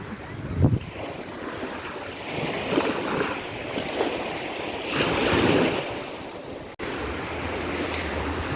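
Black Sea surf washes onto an Odesa beach in a steady, broad rush of waves, with gusts of wind buffeting the microphone and a brief dropout near the end; no one speaks.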